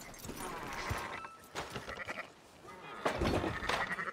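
Sheep bleat in Red Dead Redemption 2, several calls in quick succession at moderate distance, with faint speech mixed in.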